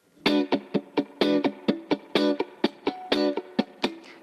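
Distorted electric guitar strums in an even, steady sixteenth-note rhythm, with regular accents, played alone.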